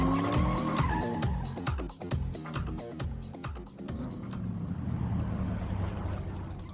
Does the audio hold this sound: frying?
no